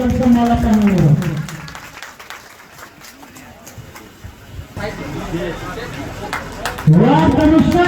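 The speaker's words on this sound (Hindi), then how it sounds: "एक ताली अपने जोर से बजाइए" A crowd at a Jan Suraj political rally claps in the middle of the event, the noisy clapping swelling between stretches of an announcer's amplified voice, which sounds loudly at the start and again near the end.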